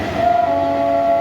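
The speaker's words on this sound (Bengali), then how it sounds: "বেরিয়ে যাচ্ছে হাওড়া তারকেশ্বর" A Howrah–Tarakeswar local train pulls out of Howrah station after rain, giving a steady, sustained tonal horn or whistle over a continuous rumble of rail noise.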